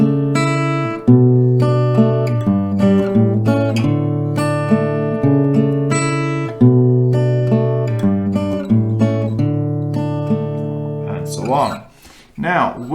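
Acoustic guitar plays a song's melody at a slightly faster tempo, steady strummed and picked chords ringing clearly with no voice, ending in a brief scrape and a quieter pause.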